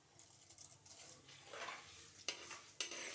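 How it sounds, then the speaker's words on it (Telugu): Husked split lentils fry in a hot pan for tempering, giving a soft sizzle. A spoon stirs them, and there are a couple of sharp metallic taps against the pan. "చూసారు కదా, వేగుతుంది."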